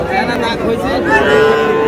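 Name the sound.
young bull calf mooing at cattle market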